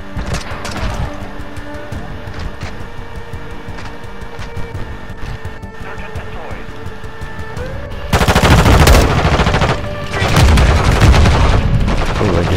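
Shotgun blasts in Call of Duty Modern Warfare II, loud rapid booming shots with heavy low punch, a busy flurry of gunfire and game effects, surging louder in the final seconds.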